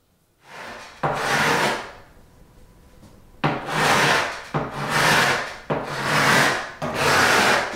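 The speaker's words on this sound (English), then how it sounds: "how's the scraping coming along?" Scraping of old wooden millwork being stripped for reuse during a house renovation: five long, loud rasping strokes, the first around one second and the rest back to back in a steady rhythm, with no talking.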